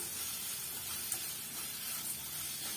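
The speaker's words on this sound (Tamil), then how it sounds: "பாருங்க ஒரு அளவுக்கு வெங்காயம் வதங்கி வந்துடுச்சு" Onions with salt sautéing in a pan for ragi dosa, giving a steady, even sizzle that holds close and moderately quiet throughout, with no talking.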